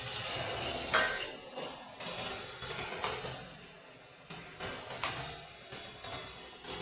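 Spice paste and tomato paste stirred and fried in a pan for an egg curry, with scraping spoon strokes, soft clinks against the metal and a light sizzle running throughout at moderate level, no voices.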